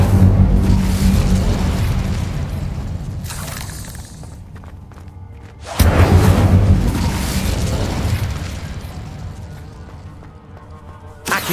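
The Incendio fire spell is cast in the video game Hogwarts Legacy, two loud roaring bursts of flame that each flare suddenly and then fade over several seconds, with rumbling combat noise underneath and no talk.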